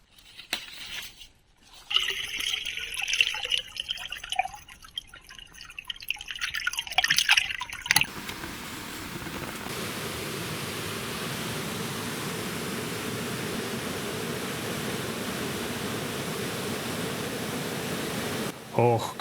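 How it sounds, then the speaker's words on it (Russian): Water spills over a small waterfall in Belarus, heard first with some nearby handling noise, then settling into a steady, continuous rushing and splashing that lasts for many seconds. "как завораживает созерцание такого простого явления, как падение воды"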